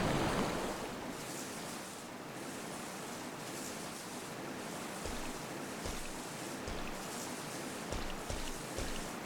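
Water drains from the fountain in Raccoon City Park in the video game Resident Evil 3, a steady, full rushing wash that stays fairly loud and even throughout, with no voices.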